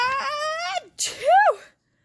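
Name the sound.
reader imitating a great sneeze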